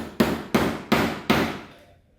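Four sharp, evenly spaced small-hammer taps ring on a carburetor part of a 1974 Ford F100, each with a short metallic decay, close and fairly loud.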